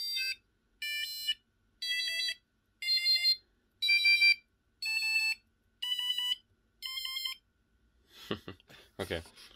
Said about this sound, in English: Can change the sound slightly by covering the hole.